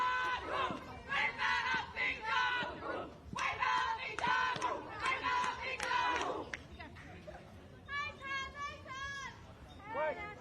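A crowd cheers and chants at an under-15 women's softball game between New Zealand and Australia, loud rhythmic group shouting in bursts with some higher children's voices toward the end.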